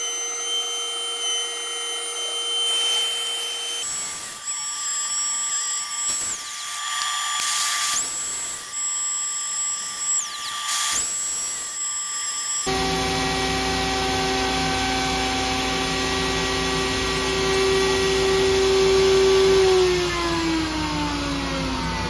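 Router shaper fitted with a plywood cutting bit, a 32nd under a half inch, cutting wood: a loud, steady high-pitched machine whine that shifts partway through into a harsher sustained cut with rising tone.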